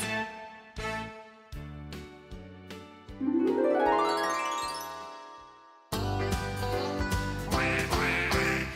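Cartoonish duck quacks in a bouncy musical jingle with tinkling notes and a rising glissando, playful and fairly loud throughout.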